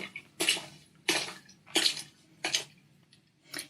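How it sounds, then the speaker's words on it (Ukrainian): Five evenly spaced splashing sloshes, each a burst of watery noise, like footsteps wading through shallow water at a slow walking pace. "Або як людина йде по воді."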